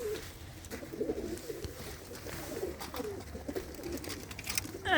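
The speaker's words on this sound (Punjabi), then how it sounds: "ਲਓ ਜੀ ਕੁਝ ਕਬੂਤਰ ਆ ਗਏ ਬਾਹਰ" Pigeons coo in a Punjabi pigeon loft, soft repeated throaty calls from several birds close by over a low background hum, with a brief voice in the background.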